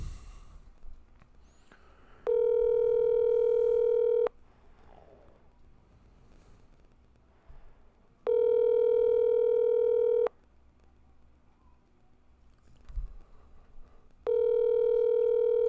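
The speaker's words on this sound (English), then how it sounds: "We're going to call him up right now and see if we can get any sort of update on Gypsy's case." A telephone dial tone sounds while someone places a call to a police department, steady tones in three separate bursts of about two seconds each, separated by quiet gaps with faint background noise.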